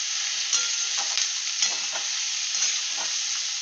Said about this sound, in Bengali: এটাকে ভালো করে নাড়াচাড়া করে এটাকে ভাজা হবে ভালো করে।